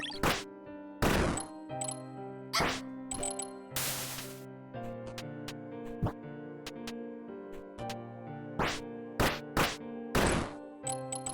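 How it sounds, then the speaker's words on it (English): In the game Momodora, a bell is rung several times with sharp metallic strikes, each leaving a long ringing tail, mixed with thuds and game music, and no talk. "I have no idea if ringing the bell does anything useful."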